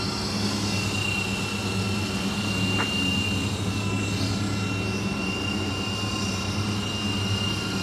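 A small 250-size RC helicopter with a single main rotor flies in a steady, continuous drone with a high motor whine, constant in level, no voices.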